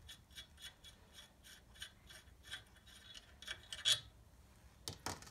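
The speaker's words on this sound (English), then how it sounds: "Take the nut off." A nut comes off during the fitting of Super-Pro axle bushes, heard as a steady series of faint, rhythmic ratcheting clicks with a sharper metallic clatter near the end.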